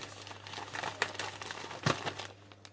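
Small plastic resealable bags crinkling and rustling as they are handled and filled with food, close and intermittent with a couple of sharper crackles, no talking.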